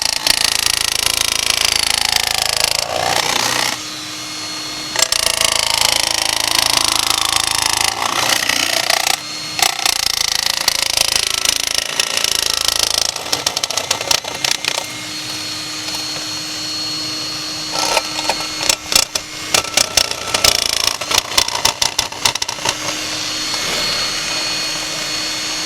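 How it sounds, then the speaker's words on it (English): A power nibbler cuts 18 gauge galvanized steel with a loud, continuous, rapid chattering buzz, broken by brief pauses as the cut starts and stops, with no one talking over it. "now I'm going to be using this nibbler here. The nibbler works by cutting through this tap and die. It'll move up and down very rapidly"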